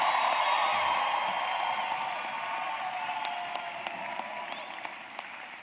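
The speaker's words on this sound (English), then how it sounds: "One more round of applause. Come on, loud." A graduation convocation audience applauds in a broad wash of clapping with a few cheers, fairly close and full at first, then slowly thinning and fading over several seconds.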